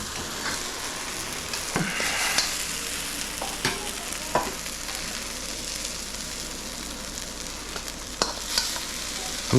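Moo shu pork sizzles and fries in a wobbly-handled wok, with a steady hiss broken by occasional scraping stirs and clanks of the utensil against the pan.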